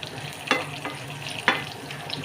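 Onions and dried red chillies fry quietly in a pan, a soft continuous sizzle broken by two sharper scraping stirs, close up with no voices.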